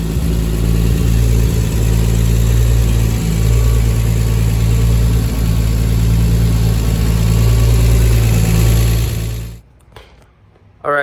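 A turbocharged 700 whp 1.5JZ engine in an S14 240SX runs loudly and steadily with a deep low rumble and a few revs, then cuts out abruptly near the end, leaving brief quiet.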